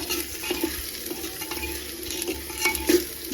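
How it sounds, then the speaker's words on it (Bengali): Marinated chicken being stirred with red Kashmiri chilli powder and spices in a pan on a gas stove, a close, steady scraping and stirring over a soft sizzle with occasional clinks of the utensil. "তো দেখো এটা আমি এবারে মিক্স করে নেব মশলার সাথে"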